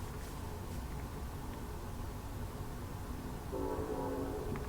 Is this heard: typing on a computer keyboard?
no